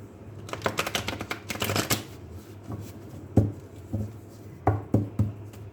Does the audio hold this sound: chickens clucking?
no